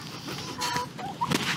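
Hens clucking in a farm stable, a few short close clucks and squawks over a soft background.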